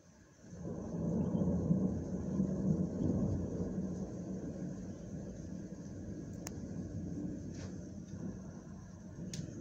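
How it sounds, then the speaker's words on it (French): Rolling thunder from a strong electrical storm in Calvados rumbles low and distant, rising quickly and then sustaining as a long, fading growl with a few faint clicks. "Un bel orage. Forte activité électrique,"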